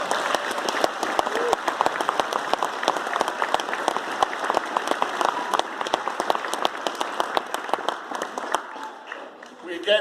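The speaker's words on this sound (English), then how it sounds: "we're going to give a very loud round of applause to the police and fire." Dense crowd applause for police and fire crews at a Gingerbread Express 2019 event, loud continuous clapping with sharp individual claps throughout, thinning slightly near the end.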